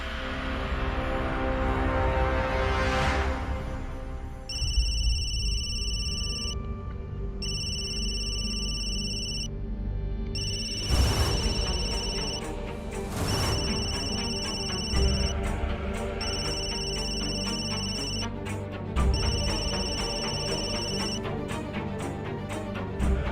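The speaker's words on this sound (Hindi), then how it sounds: "गंगा फोन क्यों नहीं उठा रही है?" An electronic phone ringtone of high, repeating beeps plays in bursts over a soft musical background.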